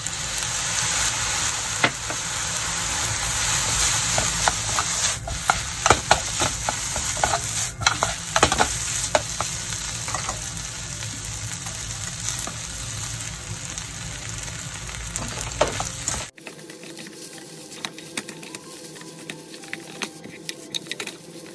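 Japanese-style egg fried rice with carrot, onion and soy sauce stir-fried in a pan: a loud continuous sizzle with repeated scraping stir strokes, then the sizzle cuts off, leaving faint clatter.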